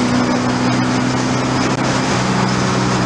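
A turbocharged Volkswagen car pulls in fourth gear under light throttle at around 60 mph, its steady engine drone and road roar loud and close with a brief dip partway through.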